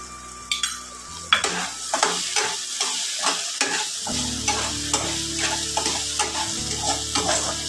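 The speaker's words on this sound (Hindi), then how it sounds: "और अच्छे से फ्राई कर लो।" Chopped onion and tomato with salt frying in a pan, stirred with repeated rhythmic scraping strokes over a steady close sizzle, with no talking.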